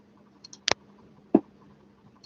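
Computer mouse clicking: two or three sharp, close clicks spaced apart against a quiet background.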